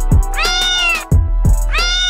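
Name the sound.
cat meowing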